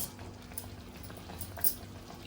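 Soft, steady bubbling of sago simmering in water in a pot on the stove, quiet and close, with a faint hum underneath.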